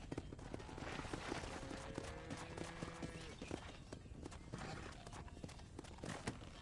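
Horse hooves clip-clop in Red Dead Redemption at a stable on a ranch, steady rhythmic clopping over a busy ambient bed with a faint tonal cue, quiet and fairly close.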